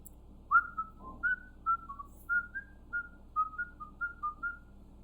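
A person whistles a series of short, clear notes, about a dozen brief chirps in an uneven rhythm, close and fairly faint against a quiet background.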